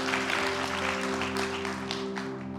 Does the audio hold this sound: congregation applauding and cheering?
yes